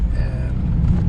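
A car driving on the road toward Gisborne, heard from inside as a steady, close low rumble of engine and tyres that holds even throughout the brief moment.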